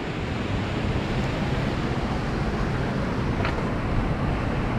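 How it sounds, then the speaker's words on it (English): Strong, steady wind buffeting the microphone in the open Western Sahara desert on the road toward Dakhla during a solo motorcycle trip, a constant loud broadband rush with no talk. "Just gonna get out of the wind here."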